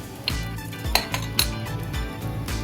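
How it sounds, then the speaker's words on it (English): A spoon scrapes and clinks against a cooking pot while stirring powdered spices, jeera, garam masala and moringa, a few sharp close knocks over a continuous low rumble. "Give it a quick mix."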